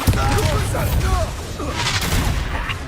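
Bombarda spell blasting in Hogwarts Legacy combat, a dense burst of booming impacts and crackling magic layered over game music and effects, continuous and loud throughout.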